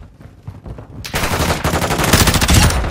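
Dense automatic gunfire erupts in a Modern Warfare 2 Hardpoint match on the Dome map with the Tempus Razorback, a quiet stretch giving way at about a second to loud, sustained rattling bursts that keep going to the end.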